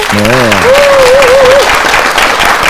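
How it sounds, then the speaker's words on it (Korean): A Korean TV talk-show studio audience applauds loudly to welcome three car salespeople as guests, a dense, steady wash of clapping throughout with a voice speaking over the opening. "반갑게 박수로 맞아주시겠습니까?"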